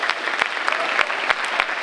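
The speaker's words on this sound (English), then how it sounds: "So give them a big round of applause." Audience applause at a high school assembly, a loud, close burst of dense clapping with crisp individual claps standing out, continuing through the whole moment.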